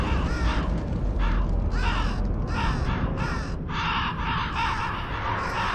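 Loud, repeated harsh caws from several crows in the video game Shadows of the Damned, in rhythmic bursts over a constant low rumble of game ambience.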